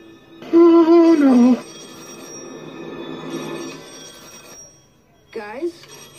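An old, unplugged telephone rings in a loud burst of bright, warbling tones, then falls quiet before a second short ring-like chirp near the end.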